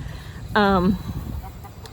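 A single loud, drawn-out chicken call rings out briefly amid quiet background noise, with faint murmurs before and after.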